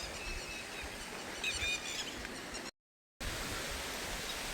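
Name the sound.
rushing water of waterfalls near a cave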